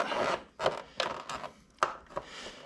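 A flat tip screwdriver prying and wiggling out a plastic clip on a Honda CT125 Postie motorbike, giving several close scraping, rubbing clicks and knocks at irregular intervals.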